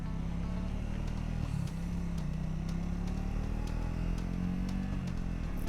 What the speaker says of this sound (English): Oh, I like that engine sound. Listen to it.